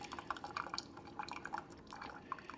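A Keurig coffee maker in descaling mode dispenses water in a quiet, close trickle of irregular drips and splashes.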